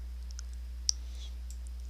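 A single crisp mouse click in VirtualBox settings, short and clear against a quiet background hum.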